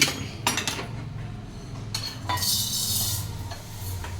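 Metal utensils clink and scrape against a pot as food is scooped and moved, with a few sharper clatters and a faint sizzle underneath.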